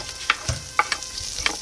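Food fries and sizzles in a pot over an open backyard fire, a soft crackling hiss broken by a few sharp spits and stirring clinks, close and alone.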